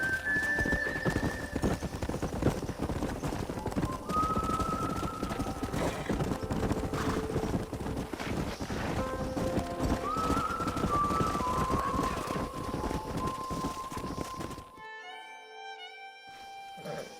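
Wild horses gallop and neigh in Red Dead Redemption, with a steady clip-clop of hooves and repeated loud whinnies over a rushing outdoor bed. Everything drops to a quieter, thinner sound in the final seconds.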